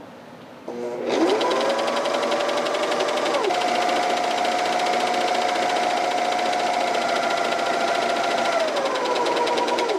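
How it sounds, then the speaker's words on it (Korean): A coverstitch sewing machine runs on stretchy cotton T-shirt fabric, starting after a brief quiet moment into a steady, fast mechanical whir with a rhythmic knocking that shifts pitch slightly mid-run, close and loud. "먼저 노루발 내리고 그냥 커버 스티치 하듯이 이제 갑니다."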